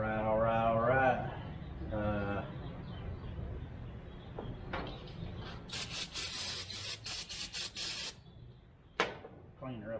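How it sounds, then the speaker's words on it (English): Brake cleaner sprayed onto the gear shifter of a Ford F350 truck in several sharp aerosol bursts, close and loud, following someone speaking briefly at the start. "Clean her up a little bit with some brake clean."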